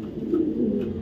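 Racing pigeons at a breeder's loft coo steadily, a low rolling murmur that is close and continuous, with no voices over it.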